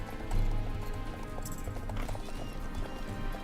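Horse hooves clip-clop in a steady galloping rhythm in the Star Stable video game during a race, with a horse whinny and faint background game sounds.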